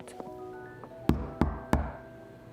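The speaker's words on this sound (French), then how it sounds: "descendit l'escalier et frappa à la porte" Three firm knocks land on a door at the foot of a stairway, evenly spaced and close, each a sharp wooden thud, after a couple of faint taps.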